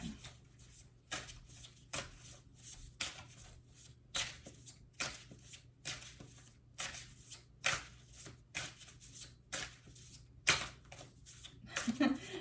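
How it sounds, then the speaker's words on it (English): A deck of reading cards reshuffled by hand, repeated close riffles and flicking card bursts in a steady rhythm, with a voice speaking quietly in between. "I'm going to reshuffle"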